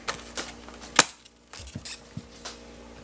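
Big knife chopping broccoli right on a kitchen counter: a handful of sharp, close knocks at irregular intervals, one loud crack standing out, with no voices.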